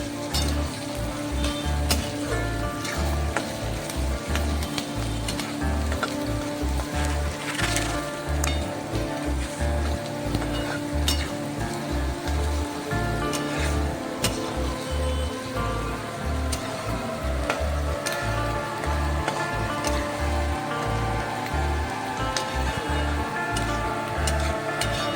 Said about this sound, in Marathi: ह्यामध्ये मी आता कांदा ॲड करते. ह्याला छानसं गोल्डन ब्राऊन होईपर्यंत परतून घ्यायचं आहे.